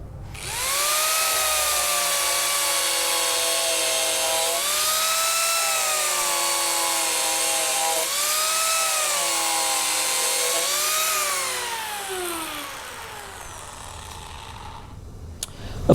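A Mini Turbo power carving tool removes wood with a high-pitched whine that steadily shifts in pitch as it cuts, then winds down and fades toward the end, close and alone.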